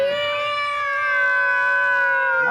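A voice imitates a cat's meow, one long drawn-out, steady wail held for the full length, loud and close.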